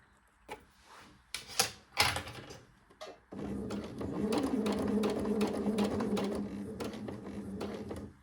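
Home sewing machine stitching jersey knit fabric for a pair of shorts, running in a steady, continuous whir for several seconds after a few light clicks and handling knocks.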